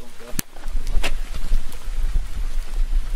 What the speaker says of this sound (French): On va pas s'éterniser, il pleut.